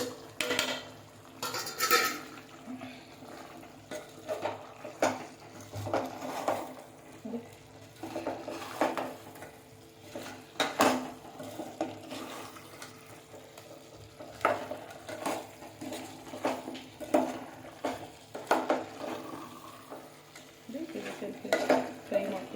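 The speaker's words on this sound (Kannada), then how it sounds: "ಫ್ರೈ ಮಾಡ್ತೀವಿ ನೋಡಿ." Chicken coated in a biryani masala of cumin, cinnamon, cloves and cardamom fries and is stirred in a pan, with steady scraping, clinking utensil strokes and a low sizzle throughout, close and moderately loud.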